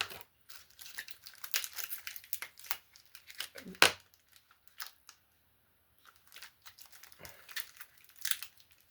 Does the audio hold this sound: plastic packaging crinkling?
yes